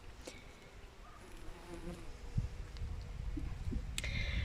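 Bees hum around flowering plants in a garden on a warm autumn day, a soft continuous buzzing that grows a little louder, with faint clicks and rustles alongside.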